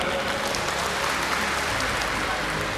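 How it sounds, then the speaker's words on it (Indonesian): University audience in a public lecture hall clapping, a steady, moderately loud patter of applause lasting throughout. "Tepuk tangan."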